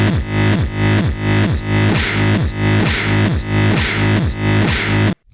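Boss RC-505 loop station plays a reversed granular delay with a kick drum over it. Dense swelling texture and steady, punchy kicks repeat about twice a second, loud and continuous until a sudden stop.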